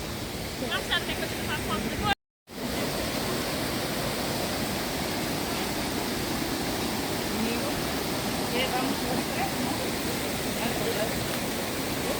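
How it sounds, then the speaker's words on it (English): Roaring broadband rush of Ouzoud Falls in Morocco, heard from the top of the falls, a steady dense wash of falling water with a brief dropout early on and faint voices behind. "It's just the top of the falls here"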